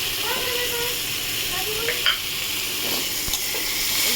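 Pomfret fish curry being stir-fried and reduced in a pan, a steady sizzle and hiss with scraping stirs, close and continuous, with a faint voice in the background.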